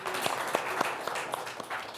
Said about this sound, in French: On peut l'applaudir encore.